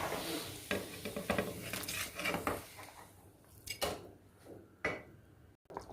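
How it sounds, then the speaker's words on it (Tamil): Coconut and cumin paste curry bubbling in a pot, with clinks of a utensil against the pot and stirring scrapes, close and fairly quiet. "நல்லா கொதிக்குது"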